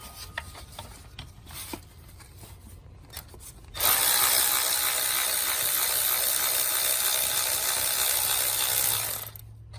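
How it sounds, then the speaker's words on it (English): A ratchet wrench loosens the front bolt on a Honda engine, starting with a few scattered clicks and scrapes, then a loud, steady, fast ratcheting rasp that runs for several seconds close up before stopping. "And then we're going to take out the front bolt."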